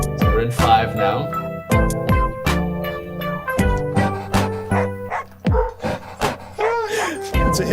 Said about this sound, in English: And we got doggy barks to help us count.